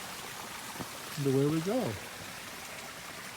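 A waterfall in a mountain garden pours steadily beneath a garden bridge, making a soft, continuous rushing wash, with a person briefly speaking over it.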